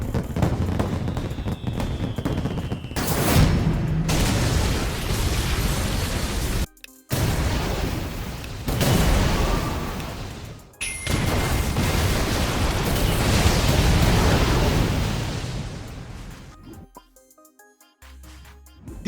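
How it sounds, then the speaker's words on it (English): Explosions from anime-inspired ability attacks in a modded Minecraft game, a string of loud, dense blasts and rumbling bursts filling most of the stretch, broken by a few brief silent gaps. "Point Blank that punches the enemy with an explosion"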